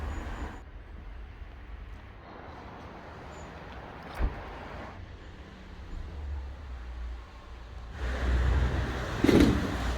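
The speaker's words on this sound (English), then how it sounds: "It's a Mercedes 190e, and I'm doing a review in this car." A Mercedes 190E drives on a rainy day, its engine a low steady rumble with road and tyre noise throughout and a brief louder swell near the end.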